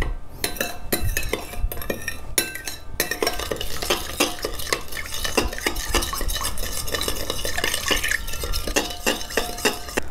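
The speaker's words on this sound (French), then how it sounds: "Vous rajoutez donc de l'eau petit à petit et vous mélangez." Batter for shrimp is whisked while water is added, producing rapid, continuous rhythmic clinking and scraping of a utensil against a bowl, close and fairly loud throughout with no talking.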